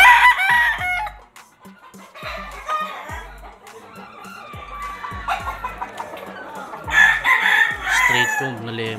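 Roosters at a gamefarm crow loudly in long drawn calls at the start, middle and end, with steady clucking and scattered chicken noises between them. The birds are close and clear, and no voices are heard.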